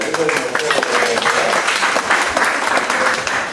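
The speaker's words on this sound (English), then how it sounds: "Let's have a round of applause." A round of applause at a club meeting: steady, close clapping from a roomful of people for several seconds, with some chatter mixed in.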